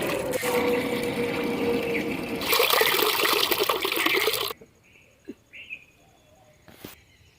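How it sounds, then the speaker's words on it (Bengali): Soaked rice washed in water, a steady broadband splashing and sloshing for about four and a half seconds, louder toward the end, then cut off to near silence with a few small clinks. "এই যে চাল ভিজে দিয়েছি এবার সিলে বেটে আর করবো একটু রোদে দেবো দিয়ে আর সিলে বেটে করবো তাই এবার ধুয়ে নিচ্ছি"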